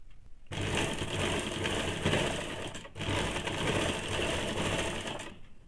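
A domestic sewing machine runs two steady stitching passes on a two-piece Bombay cut blouse, close and continuous, with a short pause between the runs.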